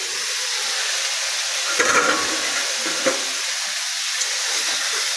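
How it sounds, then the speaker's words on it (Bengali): Eggplant slices frying in a pan give a steady, close sizzle, with a few soft scrapes as a spatula stirs them and no voices over the hiss. "সঞ্জিতা বসিয়েছে বেগুন ভাজা, আমাকে বলছে বেগুন ভাজাটা নাড়ো"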